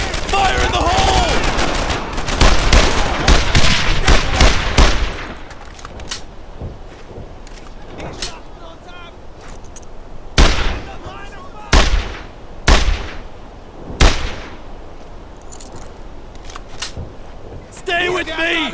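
Heavy gunfire and a grenade blast in the World War II shooter Brothers in Arms 2, loud bursts of rifle and machine-gun fire with several sharp booms, mixed with shouted voices.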